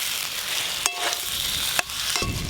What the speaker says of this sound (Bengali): ডিম দিয়ে মশলার সঙ্গে আরেকটু ভালো করে কষবো।